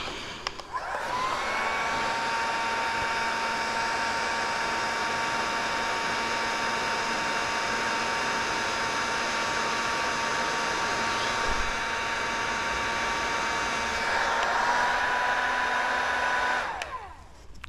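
A heat gun runs steadily for about fifteen seconds while warming a part during a fuel pump install on a KTM, a loud even blowing whine with a clear start and a sharp cutoff near the end, no talking.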